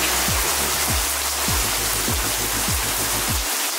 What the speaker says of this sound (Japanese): さっきまですごい晴れてたのに急に雨になっちゃった。